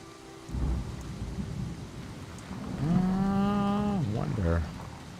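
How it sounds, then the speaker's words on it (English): Steady rain falls throughout a scene in the video game Season: A Letter to the Future, with a low rumble of thunder and a rising, falling tonal sound layered over the downpour. "I love the sound of rain."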